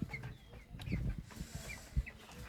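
Thirteen-day-old broiler chickens on a poultry farm give soft, scattered chirps and clucks, faint and fairly distant, over a quiet background.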